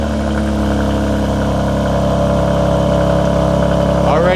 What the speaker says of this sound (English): Already a better idle.